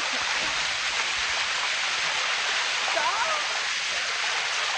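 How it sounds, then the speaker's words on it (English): A waterfall in Chiang Mai, Thailand, roars as a steady, loud rush of falling water from start to finish, close by, with no pauses or breaks. "here's an incredible view of the waterfall"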